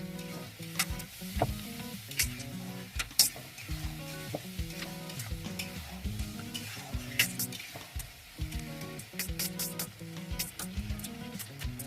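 Ginger, tomato, garlic and chili paste stirred in hot oil, a soft continuous sizzle with scraping stirs, under background music.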